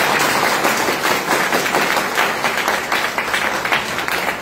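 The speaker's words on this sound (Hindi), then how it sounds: "एक बार जोरदार ताली होनी चाहिए।" A crowd at a business training meeting breaks into loud, continuous applause, a dense wash of clapping that holds steady throughout.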